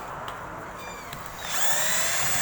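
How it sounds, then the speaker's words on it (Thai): A power drill driving a long screw whirs faintly, then spins up to a louder, steady whine partway through, over a background of constant hiss. "เอาสว่านนะครับ"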